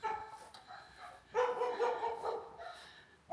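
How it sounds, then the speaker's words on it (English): A small dog barks inside a house in sharp, yappy bursts, a few barks clustered then a pause and another bark, muffled and moderately distant, with no talking. "there's a sassy little barking dog inside the house"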